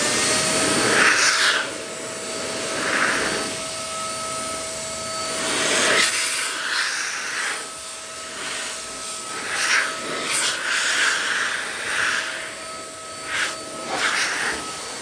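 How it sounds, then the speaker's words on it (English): A handheld air gun blows water off a car headlight, a steady, fairly quiet whooshing hiss with a constant whine, swelling and easing in short waves with no talking. "with the Adam Polishes air gun, this will make it bone dry"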